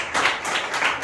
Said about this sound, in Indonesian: Tepuk tangan untuk Abid.